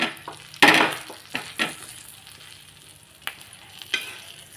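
Four pav buns toasting in ghee on a pan for kachchi dabeli, a sharp burst of sizzling as they hit the fat, then softer scattered sizzles and scraping under quiet frying.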